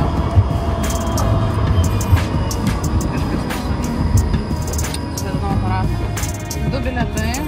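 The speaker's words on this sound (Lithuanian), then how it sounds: "tramvajum" Riding aboard a tram: a steady rumbling ride with rattling, clanks and squealing wheel tones, loud and close, with people talking throughout.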